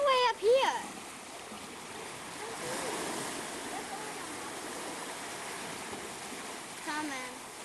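Ocean swell washes up on the Maine shore in a steady, broad rush of water that runs through the whole stretch, with voices talking briefly at the start and again near the end.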